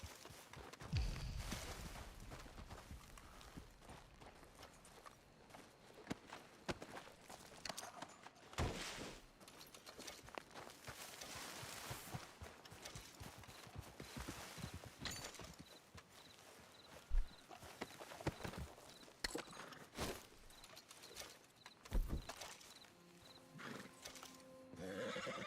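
Horse hooves clip-clop at a walk in Red Dead Redemption 2, an uneven run of faint hoofbeats with a neigh or two and small tack noises, no voices.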